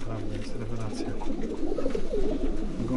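Racing pigeons coo in low, repeated bursts close by, under a busy loft background with someone talking over them.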